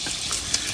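Hot oil crackles and sizzles steadily in a pan, ready for chicken, a close, continuous hiss with small pops, heard alone without talk.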